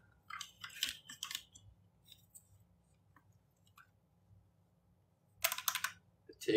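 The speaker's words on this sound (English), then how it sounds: "It's like a 3/4 keyboard." Typing on a small three-quarter-size computer keyboard, quiet irregular bursts of key clicks near the start and again near the end, with near-silence between them.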